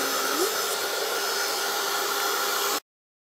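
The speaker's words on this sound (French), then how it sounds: "Et je vais sécher avec le heat gun." Heat gun blowing to dry paint on a craft piece, a loud, steady whooshing roar close by that runs for nearly three seconds and then cuts off abruptly into silence.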